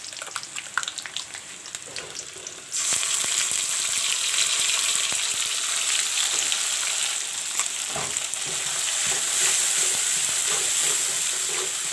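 Masala hits browning onions in a hot pan and is stirred through, the sizzle suddenly swelling loud and steady, with scraping stir strokes and small crackles throughout.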